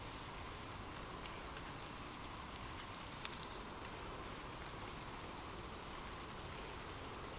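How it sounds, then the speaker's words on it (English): Gentle rain falling softly on leaves, a steady even patter of many small drops, quiet and continuous with no other sounds. "Imagine gentle raindrops falling softly on leaves"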